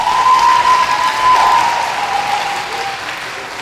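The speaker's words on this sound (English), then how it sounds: "give yourself a round of applause" Elementary school students clap together in a large room, a dense, loud burst of applause that tapers off gradually over a few seconds, with a faint tone ringing underneath.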